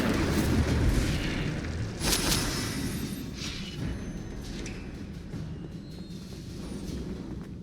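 An Incendio fire spell cast in Hogwarts Legacy lets out a loud fiery whoosh and booming burst near the start, then a second flare around two seconds in, trailing into a rumbling, crackling tail with no talking.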